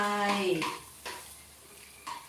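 A utensil clanks against a pan several times while chili and garlic are stir-fried in a little oil for a basil stir-fry with egg. Faint frying noise sits underneath, and a brief squealing tone opens the sound.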